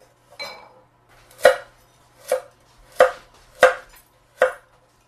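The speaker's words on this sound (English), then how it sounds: "I like to cut my carrots on an angle just because I think they look nicer" A knife chops carrots on a cutting board into bite-sized pieces cut on an angle, giving five crisp, evenly spaced strikes close up in an otherwise quiet kitchen.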